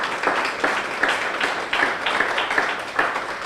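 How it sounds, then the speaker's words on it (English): Audience applause at an annual children's advocacy awards event, a steady crowd clapping with rhythmic bursts, fairly close and continuous for a few seconds. "Give him a big round of applause"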